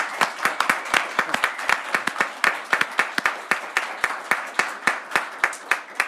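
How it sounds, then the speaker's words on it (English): Scattered applause from a small audience at a TriMet board of directors meeting, with distinct individual claps in an uneven rhythm throughout, fairly close and moderately loud, with no talking. "So big round of applause,"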